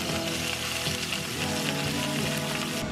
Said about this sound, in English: then I'll transfer it over the pan and do a quick sear on that